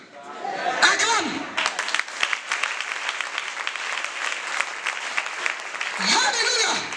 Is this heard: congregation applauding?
yes